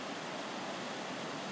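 High-volume water surging out of a river resurgence, a steady broadband rushing roar like a waterfall, continuous and fairly close, with no voices.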